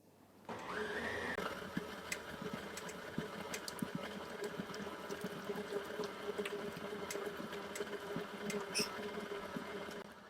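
An electric mixer whirs up and settles into a steady, continuous drone as it beats a sticky homemade fudge mixture, with faint rattling ticks against the bowl throughout.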